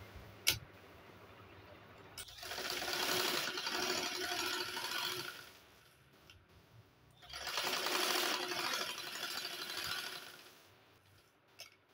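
A sewing machine stitches a kurti in two steady, sustained runs separated by a pause, with small clicks and fabric handling between them and no voices.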